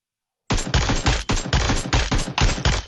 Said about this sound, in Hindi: अगर आप इसको इनेबल करके हेडशॉट मारोगे तो कुछ इस प्रकार का आपको साउंड आएगा